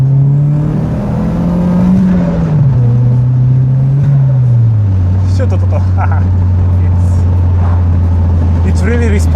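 An Opel Bertone turbo car pulls hard under acceleration, its engine note loud and close, dipping with gear changes before settling into a sustained drone, with a voice briefly heard over it.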